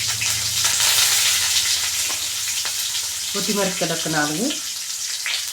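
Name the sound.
onion, curry leaves, chillies frying in oil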